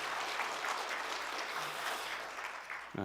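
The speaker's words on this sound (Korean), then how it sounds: "박수로 환영해 주시겠습니다" Audience applause at a New Year breakfast prayer gathering welcomes an arts foundation's chief executive, a dense, steady wash of many hands clapping throughout before fading near the end.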